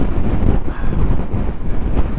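Heavy wind buffets the microphone while riding a KTM 890 Adventure motorcycle, a loud continuous roaring rush with gusty fluctuations and the engine buried underneath.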